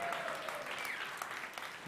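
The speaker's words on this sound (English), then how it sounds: "That's an applause thing." Audience applause greets the opening of a security conference in Seattle. A steady, dense wash of many hands clapping continues throughout, sounding moderately distant and fairly soft.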